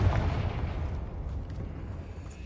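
A Confringo spell explosion in Hogwarts Legacy gives a loud, dense blast that rumbles and crackles on for a couple of seconds. Its heavy low roar slowly fades.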